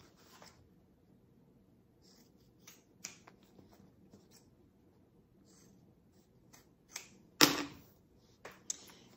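Bag material is trimmed with a few sparse, quiet snips, then one sharper, louder cut near the end, heard close up with no talking.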